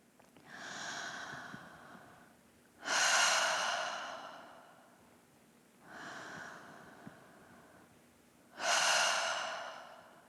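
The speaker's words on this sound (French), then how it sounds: "Par la bouche, inspire. Par la bouche, expire." Breathing exercise in a yoga session, slow deliberate breaths through the mouth, four long airy breaths alternating between softer and stronger, each lasting a couple of seconds, close and clear with no talking.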